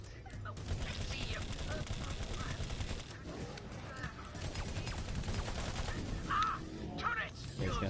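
Video game gunfire, sustained bursts of automatic shooting and rapid shots playing steadily at moderate level, with a few sharper louder reports near the end.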